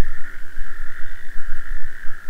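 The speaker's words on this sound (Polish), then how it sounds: "A u nas z kolei od 3 dni zawsze w nocy żaby dają koncert." Frogs croak steadily through a night chorus, a dense continuous trill with a strong pulsing band, heard alone at moderate loudness with no voices.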